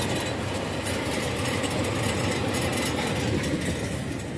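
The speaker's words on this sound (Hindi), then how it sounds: "सो फाइनली हम लोग पहुंच चुके हैं अपनी ट्रेन में, अपनी अपनी सीट्स पर।" Inside a moving passenger train, a steady dense rumble and roar of travel mixes with broadband air noise from a vent that blows cold air, continuous and even throughout.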